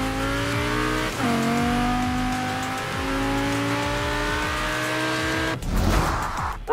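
A Lamborghini in the racing video game Forza Horizon 4 speeds along with a loud, sustained engine drone, shifting pitch through gear changes, then a burst of tire and road noise near the end.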